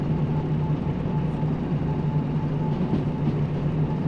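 Locomotive-hauled freight train rolling along the track in the railway game Derail Valley, a continuous low rumble with a steady engine drone and faint wheel clatter, close and even.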